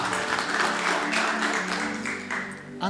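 Congregation at a church sermon clapping for the Lord, a dense continuous round of applause with faint voices mixed in, fading slightly toward the end.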